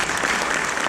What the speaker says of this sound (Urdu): ان کے لیے تالیاں ہونی چاہیے